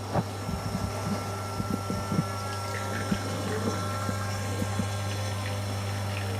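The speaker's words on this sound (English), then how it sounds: "let's see how this pour goes" Freshly ground Ethiopia Chelba Yirgacheffe natural-process coffee is poured into a cup, a soft liquid trickle under a steady mechanical hum, with faint intermittent drips and clicks.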